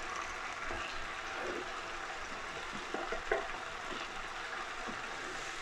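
Spices fry in a tomato masala for cod curry with a soft, steady sizzle and a few faint stirring scrapes near the middle, all fairly quiet.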